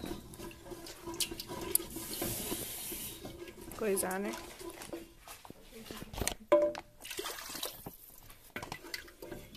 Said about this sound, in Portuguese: nós colocamos um pouquinho de água aqui, né, no molho